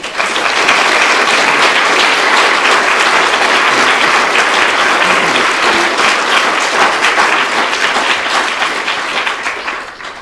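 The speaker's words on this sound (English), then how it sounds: "if you want to give him a round of applause" Steady, loud applause from a crowd fills the whole clip, tapering slightly at the end.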